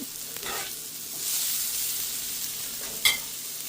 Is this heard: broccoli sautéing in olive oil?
yes